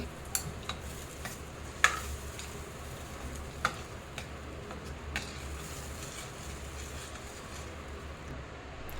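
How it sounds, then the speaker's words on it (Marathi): Masala for dhaba-style dum aloo sizzles steadily in the pan as water goes in, a low, even hiss broken by scattered small clicks and pops throughout. "आता त्याच्यामध्ये मी पाणी टाकते हे मसाल्याचं पाणी टाकते"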